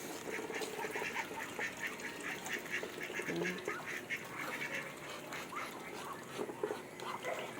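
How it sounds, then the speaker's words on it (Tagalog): A flock of domestic ducks quacks continuously while being fed, in a busy, overlapping chorus outdoors, fairly close, with a faint voice underneath. "Kain ng pato at magwalis."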